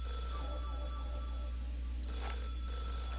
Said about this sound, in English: Oh wait, you don't want to shoot the phone.